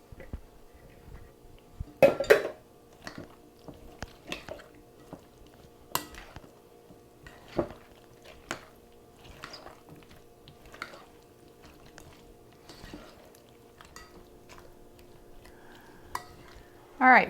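A green bean casserole mixture of soup and green beans is stirred in a baking dish, giving faint, scattered utensil clicks and scrapes with quiet gaps between them.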